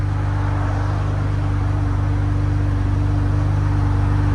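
A 2019 BMW M2 Competition with a 3.0-litre twin-turbo inline-six and Valvetronic exhaust idling, a loud, steady low rumble with an even pulsing drone throughout, recorded close to the tailpipes.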